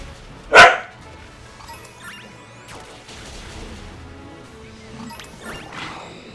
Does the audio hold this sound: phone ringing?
no